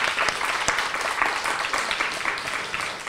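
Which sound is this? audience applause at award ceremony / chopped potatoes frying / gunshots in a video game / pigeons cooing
audience applause at award ceremony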